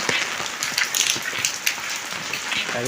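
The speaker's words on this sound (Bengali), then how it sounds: "অজস্র বৃষ্টি হচ্ছে" Dense, steady rain pattering hard on surfaces nearby, a continuous wash of drops with occasional louder splats.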